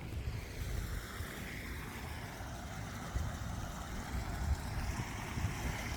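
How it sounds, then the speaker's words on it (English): Flowing water passes beneath a small flint and ragstone bridge in country parkland, making a steady, continuous rushing wash that stays even throughout with no voices. "lovely flowing water"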